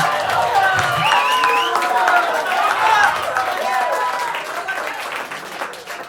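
Audience applause in a small live music show setting, steady clapping with cheering and whistles mixed in, gradually tapering off toward the end.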